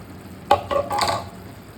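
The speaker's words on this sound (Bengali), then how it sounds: "আবারও ভালো করে মিক্স করে নেব" Spices being stirred into onion and tomato in a hot pan, a few short scraping strokes with light sizzling underneath, close and fairly quiet.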